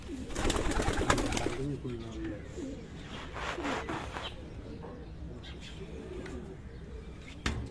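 Young pigeons at a loft in Gorali, Gujrat give low, throaty coos in short repeated bursts, close by, while someone talks over them.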